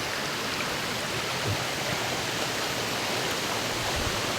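Steady rushing water of a waterfall and forest stream at Phu Soda in Thailand, a dense continuous roar that holds even and close throughout with no talking.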